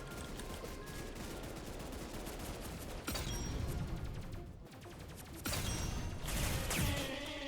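Shotgun fire in a video game hallway, a dense continuous barrage of shots with heavier bursts near the middle and end, loud and close, with no voices.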